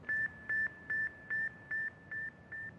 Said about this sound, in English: I could hear this little chirping sound, more like a cricket chirping